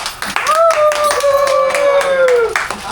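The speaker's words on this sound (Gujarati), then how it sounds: "તાળીઓ મળી જાવ ભાઈ." People at a large photo and video trade fair give a short round of clapping after two new processors are unboxed. A sustained whistle-like tone and nearby voices run over the claps.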